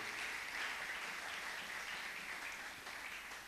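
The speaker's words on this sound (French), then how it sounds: "On acclame le Seigneur." A church congregation applauding during a sermon, a dense, even wash of clapping from many hands heard at moderate distance for a few seconds, without speech.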